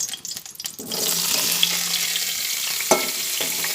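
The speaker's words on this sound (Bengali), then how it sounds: "আলুগুলো ভেজে নিচ্ছি" Cut potatoes dropped into hot white oil and frying, a steady loud sizzle that swells after a brief clatter and carries on alone with a few small bumps.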